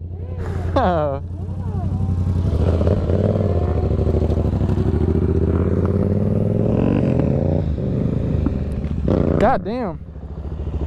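Yamaha MT-07 motorcycle engine during wheelie stunt practice in first and second gear, a loud steady drone running under the whole stretch while several people talk and exclaim over it nearby.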